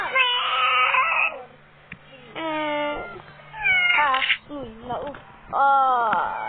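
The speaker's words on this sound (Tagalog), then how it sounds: "Ang laki nito pusa." Cat meowing in the video game Build to Survive, a series of loud, drawn-out yowls and caterwauls close up, some overlapping in quick succession.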